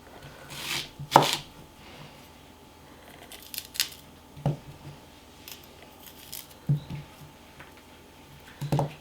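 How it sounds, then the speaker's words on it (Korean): A knife thinly slices small onions on a cutting board in scattered, crisp strokes, with quiet shuffling between cuts and no talking, while preparing chonggak kimchi. "이 얇게 슬라이스로 썰어줍니다"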